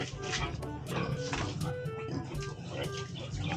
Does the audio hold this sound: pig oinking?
yes